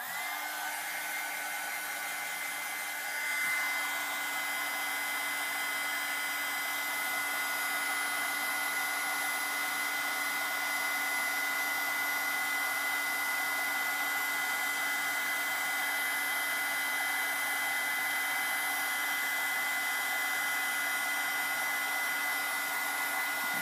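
A heat tool melting embossing powder blows with a constant, steady whirring hiss that runs unbroken and close throughout.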